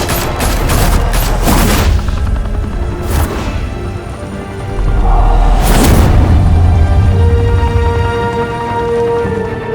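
Gunfire in Batman The Telltale Series, a fusillade of loud, rapid shots and booming blasts, with dense bursts early, a heavy boom near the middle and a sustained roar of action afterward, no talk.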